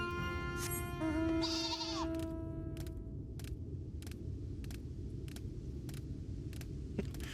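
Sheep bleats in the video game Final Fantasy XIV, a few quavering cries near the start over a steady game backdrop with a regular ticking pulse.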